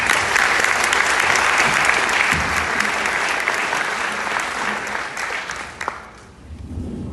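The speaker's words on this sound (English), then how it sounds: "let's go right to the mayor and give the mayor a round of applause for that" A town hall audience in Lane County applauds the mayor with a loud, sustained burst of clapping that slowly fades out near the end, leaving a brief quiet tail.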